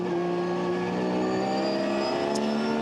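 Porsche race cars roar past at full throttle at the Nürburgring during an ADAC 24H qualifying race, a loud, sustained, high-pitched engine howl with steady harmonic tones and no voices.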